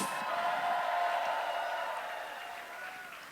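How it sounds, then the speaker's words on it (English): Rally crowd in Los Angeles applauding a senator, a broad wash of clapping with faint cheers that swells briefly and then slowly fades. "a loud round of applause for Senator Adam Schiff."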